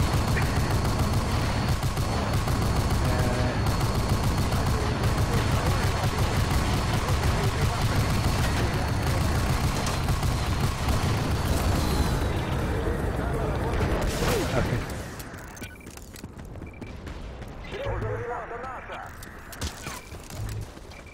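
Rapid gunfire and blasts from a gunship in the Battlefield 2142 video game, hammering a friendly tank on the Sidi Power Plant map. The dense, loud barrage runs under talk, then drops off to a quieter, sparser battle.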